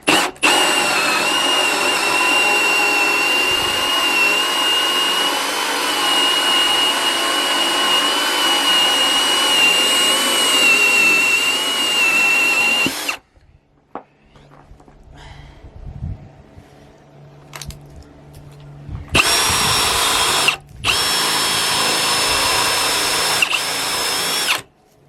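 A power drill boring through a log during staircase assembly, a loud steady high whine for about thirteen seconds, then quiet shuffling and bumps before two shorter bursts of drilling.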